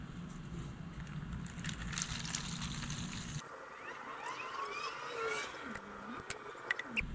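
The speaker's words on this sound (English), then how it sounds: "I think it's easier just to buzz those off and drain the tank that way" Water drains from the fuel tank of a water-damaged junkyard mower, heard as a soft trickle and dribble after a low engine-like hum cuts off partway through. The sound is faint and close, with a few small clicks.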